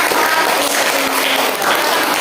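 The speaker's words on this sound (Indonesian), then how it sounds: "Tepuk tangan untuk kelompok." A classroom full of students claps for a group, dense steady applause filling the room at close range for the whole stretch without a break.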